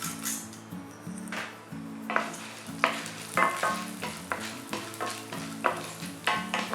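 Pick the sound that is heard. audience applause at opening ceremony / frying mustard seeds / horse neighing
frying mustard seeds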